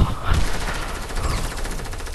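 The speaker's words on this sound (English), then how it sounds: "They're shooting at me." Rapid automatic gunfire in the Fortnite video game, a loud, continuous rattling burst of shots filling the whole moment with dense, overlapping reports.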